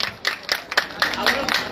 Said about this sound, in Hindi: तो मैं चाहूंगा कि इस उपलब्धि के लिए एक बार जोरदार ताली तो बजनी चाहिए